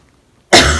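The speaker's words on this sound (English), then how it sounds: "lovely coughs again." A single loud cough bursts out abruptly after a short silence, close by.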